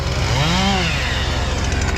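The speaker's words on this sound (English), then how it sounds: "Chainsaw there, you might not be able to hear us." A chainsaw roars steadily and loud while felling a six-foot-wide ash trunk degraded at its base by old fires, the engine pitch swelling and dipping as the bar bites into the wood.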